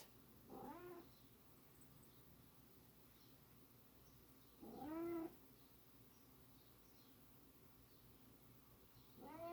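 A cat meows faintly three times, spaced a few seconds apart, over a steady low background hum.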